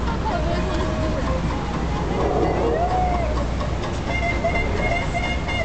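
The Mark Twain riverboat's engine running ahead at one quarter, a low, steady rumble throughout, with tonal whines and hums over it and background voices murmuring.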